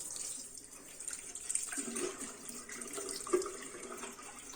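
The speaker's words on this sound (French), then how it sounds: "délicatement, on va enlever l'eau qui a servi à faire fondre le chocolat" Water used to melt chocolate for a mousse being gently poured off, a soft continuous trickle and splash with a few brief louder spills, close and quiet.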